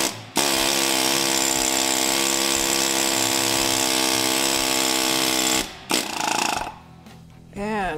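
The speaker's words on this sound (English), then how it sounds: "then you just start the air hammer" A BrakeFree air hammer rattles loudly and steadily against a brake bleed screw for about five seconds, then cuts off abruptly, followed by a short burst and softer workshop noise.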